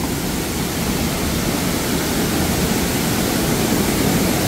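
Hongryong Waterfall on Wonhyosan mountain in Yangsan roars as a steady, dense rush of falling water and spray, loud and unbroken throughout with no voices.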